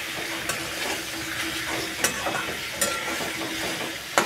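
Boiled, peeled taro pieces stir-fried in a pan sizzle loudly and continuously, with a few sharp scrapes of the spatula breaking through the frying hiss.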